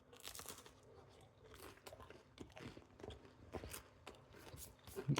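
Someone bites into crispy homemade pan pizza and chews, making quiet, close crunches and crackles in an irregular run, faint overall with no talk.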